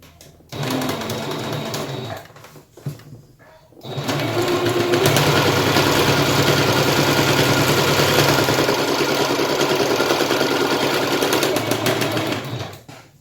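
A sewing machine whirs in a fast, continuous run of stitching after a few short starts, close and loud, with no speech.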